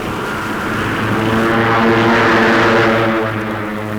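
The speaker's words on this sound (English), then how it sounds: "The thunder of thunderbolts carry them to battle." P-47 Thunderbolt fighter planes on a long-range escort mission drone past with loud, steady propeller engines, their pitch rising and swelling to a peak mid-way before easing slightly.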